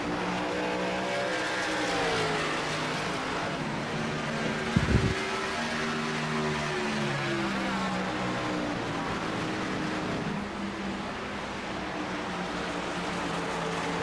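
Race cars in the iRacing sim at Rockingham Speedway drone past with sustained engine whine, rising and falling pitch as they pass, plus a brief thump midway, steady and loud with no talk.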